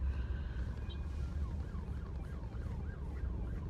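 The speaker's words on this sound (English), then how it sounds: "I hear a cop car, which means someone's getting busted" A police car siren wails in the distance, a repeating up-and-down tone heard faintly over low rumbling street or background noise.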